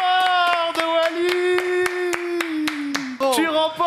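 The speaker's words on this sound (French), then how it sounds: "Quiz, on applaudit!" Audience applause at a French football quiz show, a burst of many hands clapping in sharp repeated slaps, heard under and around cheerful talk and a bright musical jingle.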